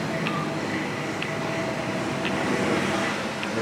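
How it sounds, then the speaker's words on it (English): Steady, fairly faint air conditioning noise hums in a quiet indoor space, a broad constant whoosh with a few small clicks over it. "Let's wait for that air conditioning noise to subside."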